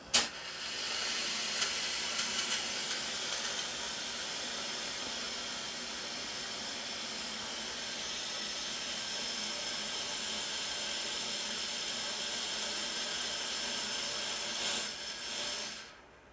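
A homemade fog machine feeding a fog chiller, a loud, steady, close hiss of fog that starts abruptly, runs unbroken for about fifteen seconds and then stops, with no talk.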